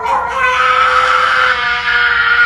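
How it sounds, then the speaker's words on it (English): A pug dog lets out a loud, close, drawn-out scream, a high wavering wail that holds steady for over two seconds before cutting off. "I bet that you've never heard a dog make a sound like this."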